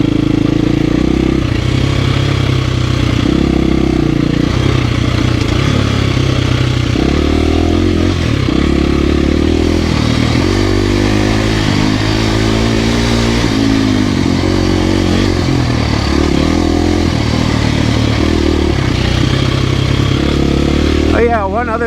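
KTM 350 XCF-W dirt bike on a single-track trail, engine droning loudly and continuously with rises and falls in revs, close, with a voice talking over it.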